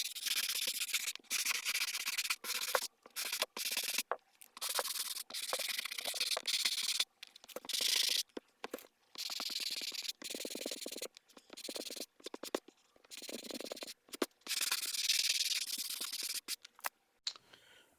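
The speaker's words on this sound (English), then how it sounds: "I'm going to use that and just kind of sand down and smooth out all the stuff" Steady scratchy sanding strokes with a 300 grit block on a mask's siliconed seams, repeated in short bursts with brief pauses, close and fairly loud, with no talking.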